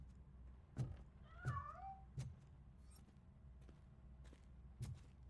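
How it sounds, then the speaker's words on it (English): A cat meowing in the video game RoboCop: Rogue City, one short faint rising meow amid heavy thudding footsteps and quiet ambient game noise. "That cat must be hiding inside."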